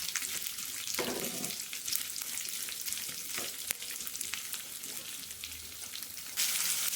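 Continuous loud sizzling of tempering spices frying in hot oil in a pan, with a few brief scraping stirs and a burst of extra crackle at the end.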